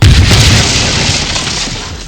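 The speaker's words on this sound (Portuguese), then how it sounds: "joga o veículo em direção a eles. Com isso gerando uma enorme explosão." A huge, roaring explosion from a hurled vehicle booms loudly at once, then a dense rumbling wash slowly tapers off over a couple of seconds.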